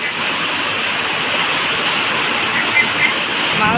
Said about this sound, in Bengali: বাপরে জোরে জোরে বৃষ্টি পড়তেছে